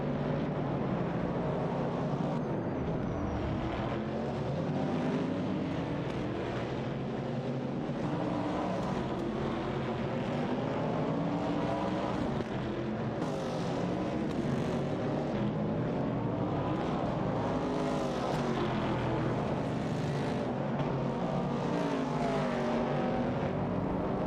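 Race cars in a racing video game roar continuously, with engines droning and shifting pitch over a dense, steady wall of noise and no voices.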